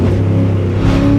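Loud, close engine revving from a quick car on Toyo near-slick tyres, a sustained buzzing drone that rises and strains as the wheels spin.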